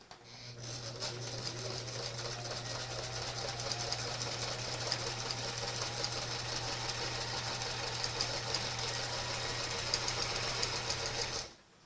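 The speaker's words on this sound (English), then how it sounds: "And I stitch a little bit past the edge, which is fine." A sewing machine stitches quilt pieces with a steady, close mechanical whir and rapid needle chatter, running continuously for about eleven seconds before stopping abruptly.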